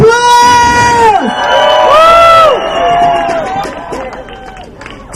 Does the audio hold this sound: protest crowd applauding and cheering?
yes